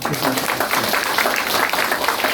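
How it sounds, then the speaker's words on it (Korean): A lecture audience applauds with dense, steady clapping for a couple of seconds, fairly loud and close, with some voices mixed in. "박수 한번 칠까요?"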